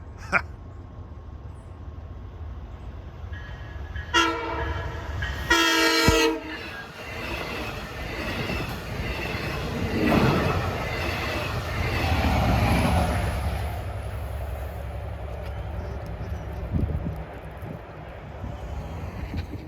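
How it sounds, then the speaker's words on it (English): A westbound equipment train blows its horn in two loud blasts, then rumbles past with a rising and fading roar and wheel clatter, heard from trackside. "4:35, we have a westbound equipment train."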